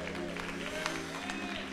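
A church congregation claps together in a dense, steady patter during a service, with a sustained musical tone underneath and voices mixed in.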